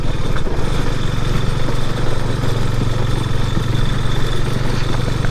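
Motorcycle ridden slowly and carefully over a rough road in the Eastern Ghats near a dam, a steady close engine chug with rumbling low end and constant road noise, no voices.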